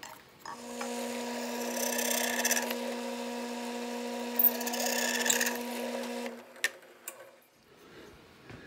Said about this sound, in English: now we'll come back with a 1/4-inch drill without the fixture and just center it on the hole